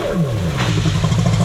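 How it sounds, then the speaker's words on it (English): A jet ski fitted with a swapped 1100 engine revs hard, its pitch sweeping downward then holding a steady loud drone close by with no talk. "This is the finest running 1100 engine swap ski that I have ever ridden. It runs good and it rips hard."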